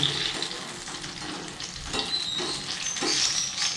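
Pitha fry in oil in a wok over a low flame and are turned now and then, a soft, steady sizzle with light stirring near at hand.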